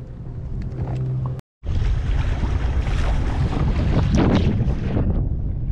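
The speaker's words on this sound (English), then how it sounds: "there's a pretty good wind going" Wind blowing hard across a lake while kayaking from an Old Town Autopilot 120 kayak, a loud, steady broadband rush buffeting the microphone for several seconds after a brief cut.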